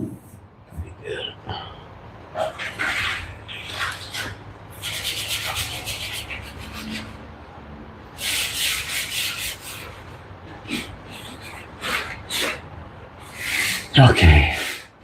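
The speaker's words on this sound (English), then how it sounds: "Just some light sanding from the floor." Someone lightly sands wood near the floor, producing intermittent rough rubbing strokes in short bursts with pauses between them, close by, with a voice speaking at times.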